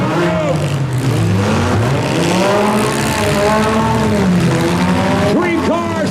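Demolition derby cars at Simcoe drive and rev hard around a dirt track, with loud, continuous engine roar, rising and falling revs and occasional tire squeal, under an excited announcer's commentary.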